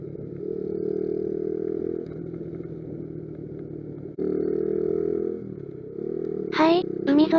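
A Honda Gorilla motorcycle with a loose rear shock bolt rides along in steady engine drone, a brief dip near the middle, with a couple of short high squeaks toward the end.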